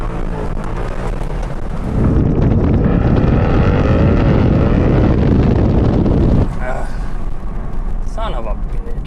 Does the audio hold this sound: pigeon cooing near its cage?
no